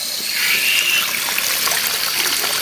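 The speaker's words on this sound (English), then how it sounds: "Get the water on, get some hot too." Hot water running from a tap, a steady loud splashing and trickling stream that continues evenly throughout without speech.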